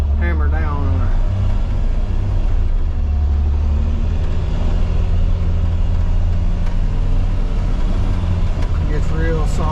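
A truck revs hard while its wheels spin in soft, muddy ground at a bass pond build site, a loud, steady engine roar and rumble that continues unbroken throughout.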